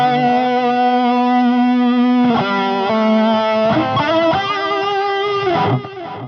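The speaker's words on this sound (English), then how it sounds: "the wow gives it a bit of modulation on each repeat" HeadRush delay effect with wow modulation on the repeats, a distorted guitar playing sustained notes and chords whose echoes waver slightly in pitch, loud and alone.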